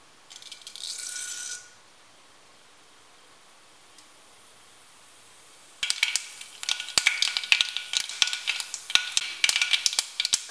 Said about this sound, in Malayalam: ഇനി കടുക് ഇട്ട് പൊട്ടിക്കാം